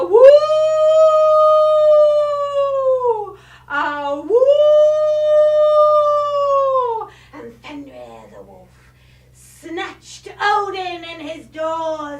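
A storyteller's voice imitates a wolf howl siren in a Norse myth performance, with two long rising-and-falling howls, then brief speech and a third wavering howl, loud and close.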